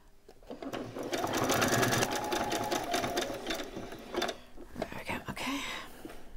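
A sewing machine runs a steady, close stitching burst while sewing Velcro onto a t-shirt, then slows into a few short back stitches, with a soft voice speaking over it.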